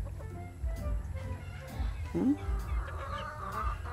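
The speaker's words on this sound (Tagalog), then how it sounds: "Dami din po tayong native na manok." Chickens cluck softly nearby, with scattered short calls over faint outdoor background noise.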